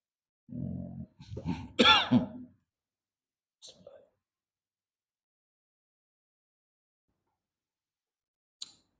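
A few loud, close coughs in quick succession, then a brief faint throat sound and a tiny click before quiet.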